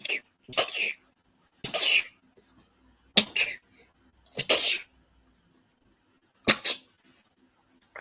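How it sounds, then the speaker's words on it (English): Several loud sneezes in a row, close up, each a sharp burst separated by short pauses. "It is time for a little sneeze."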